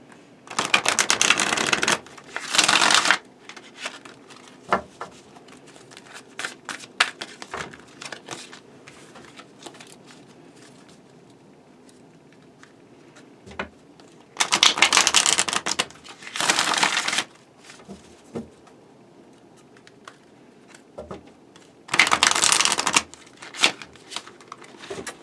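Tarot cards are shuffled in three loud, crisp riffling bursts, separated by longer quiet stretches of soft card handling and occasional taps.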